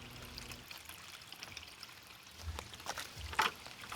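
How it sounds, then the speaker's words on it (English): Leftover fish tank water from a koi and goldfish setup is poured into a new pond water feature, giving a soft, steady trickle with a few louder splashes near the end. "it's absolutely okay to add that residual tank water into your new water feature"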